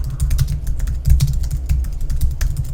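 Quick bursts of keystrokes clatter on a computer keyboard while a note about extra mileage is typed, close and fairly loud, with uneven rhythm and no talk.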